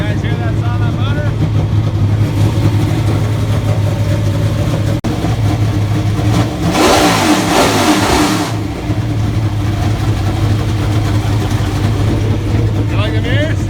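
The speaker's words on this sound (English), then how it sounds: "You guys hear that sound of that motor?" A NASCAR stock car engine at Daytona International Speedway fires up and revs hard in a brief loud burst mid-clip, over a steady low rumble and nearby crowd chatter.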